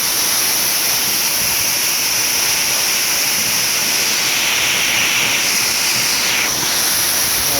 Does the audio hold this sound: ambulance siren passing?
no